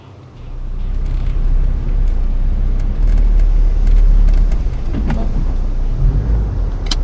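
A car pulls away slowly in first gear on Moreton Island, its engine rising at the start into a loud, steady low rumble that holds close for several seconds.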